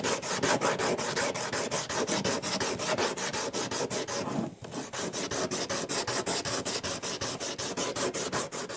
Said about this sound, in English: I'm going to start with a very coarse 80 grit just to really knock down all the high spots